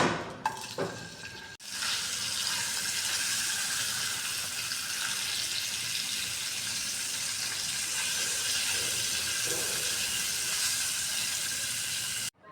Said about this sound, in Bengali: অল্প একটু হলুদ এবং একটু লবণ দিয়ে ভেজে নিব দিয়ে দিচ্ছি তেল এখন দিয়ে দিব মাছ মাথা